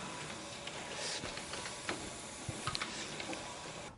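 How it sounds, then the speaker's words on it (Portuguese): A letterpress printing machine runs continuously, giving a steady mechanical hiss and rumble with scattered light clicks and ticks, recorded at close range with no talking. "quando o impressor pega a prática, ele consegue fazer sem parar a máquina. Ele fica nesse ritmo, imprimindo."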